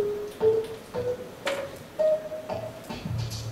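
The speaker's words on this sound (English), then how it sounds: "It's a musical instrument plays with gears." A gear-driven musical instrument plays a short sequence of plucked, bell-like tones with soft mechanical ticks between them, evenly spaced notes at moderate volume in a quiet room.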